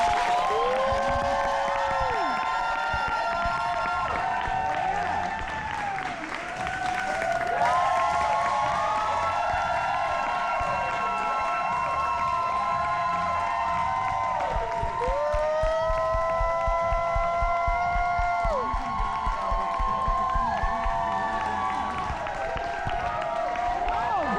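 Audience applause and cheering from a crowd backstage at the Met Gala 2025, a steady sustained roar of clapping and shouts with many overlapping tonal whoops and whistle-like cries throughout.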